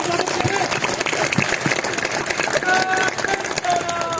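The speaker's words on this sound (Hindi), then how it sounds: "बहुत बहुत जोरदार ताली बजाओ से इनका स्वागत करेंगे।" A crowd at a student union protest claps loudly and continuously to welcome a guest, a dense wash of applause with a few voices calling out over it.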